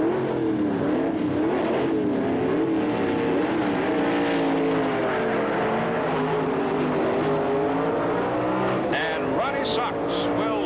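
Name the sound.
F-modified production Corvette drag racing off the start line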